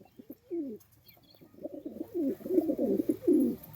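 Andhra pigeons coo close by, a few short calls at first, then a steadier run of throaty, rolling coos that grow louder toward the end, with no voices.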